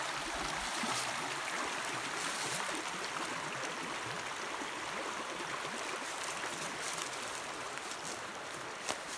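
Water ripples and rushes around a gold dredge set down in a stream, a steady broad wash of flowing water that stays even from start to finish with no talking.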